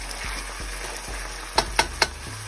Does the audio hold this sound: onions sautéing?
yes